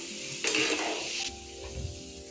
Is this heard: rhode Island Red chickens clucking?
no